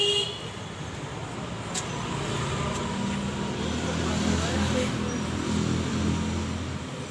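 A Mahindra 605 DI Arjun Novo tractor driving a thresher gives a steady, loud, continuous machinery drone with a rumbling low end that holds throughout, outdoors and without talking.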